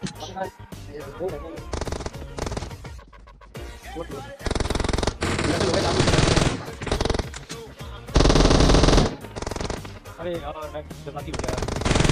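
PUBG Mobile gameplay in which loud, rapid automatic gunfire bursts repeatedly in close, sustained volleys, while players talk excitedly over the shooting.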